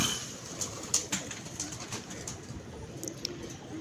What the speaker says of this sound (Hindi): हमारे ताज़िया कबूतरों की बगलां बहुत बड़ी हैं माशाल्लाह नबील भाई